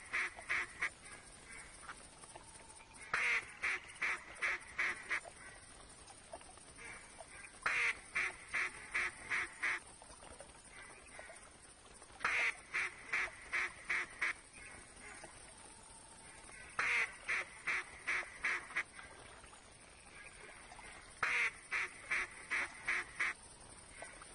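Duck calls from a duck-hunting session in theHunter game, heard alone as repeated bursts of rapid quacking, each burst of five or six quacks, recurring roughly every four to five seconds over a steady ambient backdrop.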